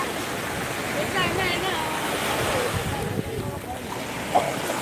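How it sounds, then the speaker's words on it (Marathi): Ocean waves wash onto the shore in a steady roaring surf with wind noise buffeting the microphone, continuous and fairly loud. "बघा लाट आलेले आहे लाट पर्यंत येईच ना बघू आता लाट येते"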